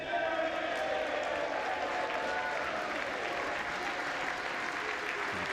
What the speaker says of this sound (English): Traditional applause for a person voting for themselves